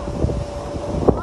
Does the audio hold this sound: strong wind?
yes